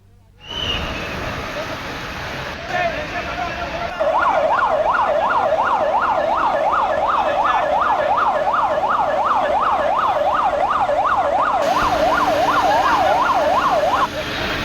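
Fire engine sirens wail at a clothing shop fire in Madina market in Hyderabad's old city, a loud, rapid rising-and-falling whoop repeating steadily for about ten seconds over street noise.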